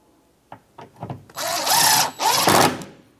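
Power driver with a T30 Torx bit snugging bolts on a Jeep Grand Cherokee liftgate, a few light clicks and taps followed by two close, loud whirring bursts of about a second each.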